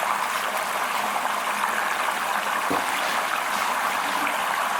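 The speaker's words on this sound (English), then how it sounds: "because of the high water flow" High water flow rushes steadily through silicone gold nugget traps in a sluice, a continuous close, loud wash of running water with no talk.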